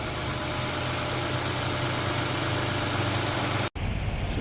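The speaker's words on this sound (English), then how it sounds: "you're gonna let the engine run for a little bit while to bleed all the air" A third-generation Toyota Sienna engine idles steadily and close by, a constant low hum with a very brief dropout near the end.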